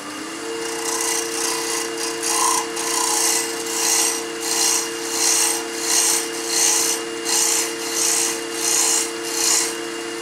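Wood being shaped by hand with coarse sandpaper gives a loud, rhythmic rasping, with about a dozen even back-and-forth strokes over a steady background hum.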